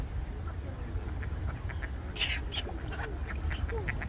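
Ducks quack in short scattered calls over a steady outdoor rumble in Voznesenivskyi Park, Zaporizhzhia, on City Day, with a few sharper squawks nearby and other birds, including gulls and sparrows, faintly around.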